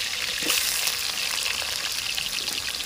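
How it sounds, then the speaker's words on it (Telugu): Washed, cut potatoes deep fry in hot oil for crispy aloo fry, with a close, steady, dense sizzle and crackle throughout and no talking. "కడిగి పెట్టుకున్న ఆలును ఇప్పుడు నేను ఇందులో డీప్ ఫ్రైకి వేస్తున్నా."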